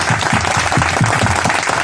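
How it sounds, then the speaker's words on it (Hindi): A crowd at a Saraswati puja pandal gathering claps loudly in a dense, continuous burst, with some lower rhythmic thumps from the venue showing through beneath the applause. "मेरे तरफ से एक बार आप लोग जोरदार तालियां"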